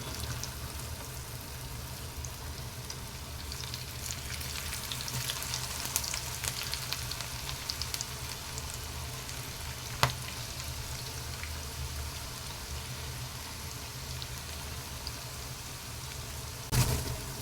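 Okra pieces frying in hot oil over a medium flame, a steady soft crackling sizzle throughout, with a single clack near the middle and another close to the end.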